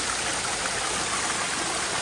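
Small waterfall with a long drop splashing into a little pool among rocks, a steady, dense rushing and spattering of water, close and continuous with no other sounds.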